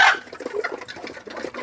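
Laying hens on a poultry farm, fed layer feed, clucking in a busy overlapping chorus, close and fairly loud, with a sharper squawk at the very start.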